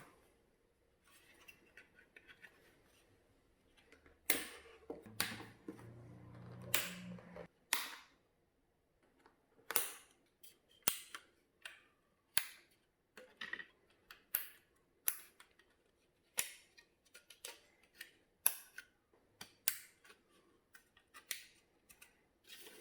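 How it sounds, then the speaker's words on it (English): Little plastic trim clips snap onto a Jeep Wrangler JK dash piece in a series of sharp, close clicks, irregular at first then coming every second or so, with quiet handling noise between. "we need to remove those clips from the old middle piece, those little plastic clips, and attach them to the new one"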